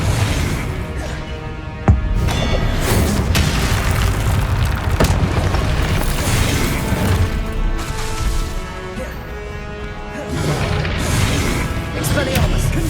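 Confringo fire spells burst repeatedly in the PS5 game Hogwarts Legacy, dense loud booms and crashes in continuous combat with a sharp blast near the start, mixed with game music and effects throughout.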